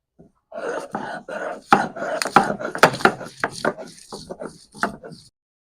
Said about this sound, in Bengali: আগে মিহি করে লবণ দিয়ে মরিচটি বেটে নিতে হবে